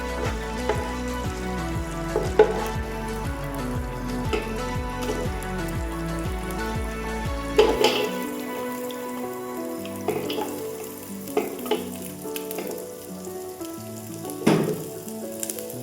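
Two teaspoons of fennel seeds sizzle in hot oil at the start of a thick-gravy chicken curry. The frying crackles loudly and steadily at first, then eases into softer, scattered pops partway through.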